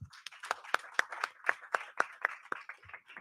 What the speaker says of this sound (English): Let's give a round of applause for all of you.